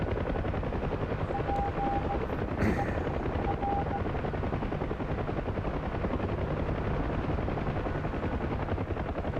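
UH-1 helicopter in DCS flight simulator, a steady loud rotor and engine drone throughout, with a faint burst of gunfire in the middle.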